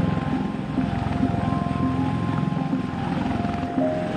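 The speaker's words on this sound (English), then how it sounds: "used as a heavy transport helicopter in different conditions" Steady rotor thumping and engine whine from a large helicopter, a continuous mechanical drone at moderate distance.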